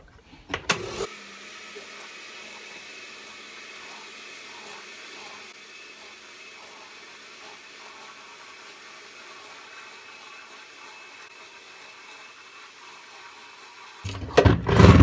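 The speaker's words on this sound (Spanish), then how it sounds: "Y esto lo voy a llevar a licuar." Electric blender running steadily, whirring lime juice, with a short clatter at the start and louder handling noise at the end.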